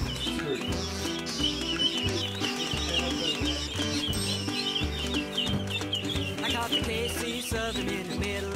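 A large group of four-week-old ducklings peep and chirp continuously in a dense chorus while their pen is being cleaned, steady and close, over a loud, constant background layer.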